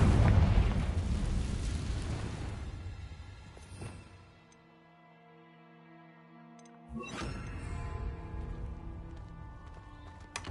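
Confringo blasting spell going off in the video game Hogwarts Legacy: a loud booming explosion that decays into a ringing tonal tail, followed by a second sharp blast.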